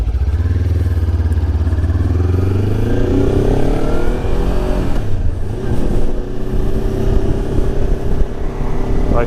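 A 2025 Lifan KPT 400 motorcycle rides along with a loud, close engine drone, the throttle rising and falling through revs and gear changes, with some rattle and wind noise.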